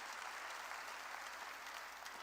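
A church congregation applauds during a sermon, a dense and continuous wash of clapping from many hands that holds steady and fairly loud for the whole stretch.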